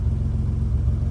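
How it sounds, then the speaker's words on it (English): Engine of a 1980 BMW 635 CSi E24 automatic with a slight exhaust blow from the centre box, a short steady low rumbling idle heard close and alone. "sounds like a very slight exhaust blow from the centre box"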